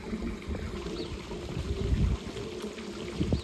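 Water spilling over the lip of a hot tub overflow, a steady close trickling and splashing wash that continues throughout with small surges, no voices.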